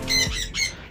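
Pet lovebirds give two sharp, close squawks in quick succession, loud and alone, with no talking.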